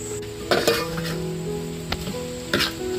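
Masala of red chilli powder, turmeric and salt roasting in a pan for mutton vade, with a steady close sizzle broken by a few brief stirring scrapes and clinks of a spoon against the pan.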